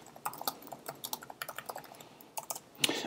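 Fingers type quickly on a computer keyboard while coding an iOS app, a close, quiet run of irregular key clicks in short bursts, with no talk.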